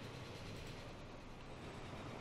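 A steam train with matching coaches runs in the railway video game Transport Fever, giving a steady, continuous rumbling rail noise that stays at an even level throughout with no talk.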